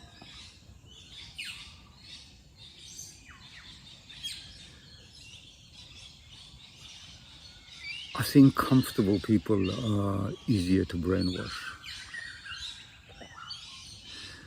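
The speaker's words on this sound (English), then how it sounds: "You can hear the birds singing." Birds call outdoors in nature late in the morning, faint chirps scattered through the background while someone talks over them steadily.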